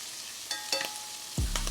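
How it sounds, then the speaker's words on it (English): Shrimp searing in a hot pan, a soft sizzle with a few clinks of tossing, then a sudden louder hiss as they hit the surface near the end. "I'll go ahead and toss all these shrimps over."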